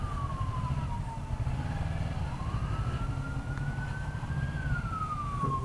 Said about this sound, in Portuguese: É ambulância, não era carro da polícia, não.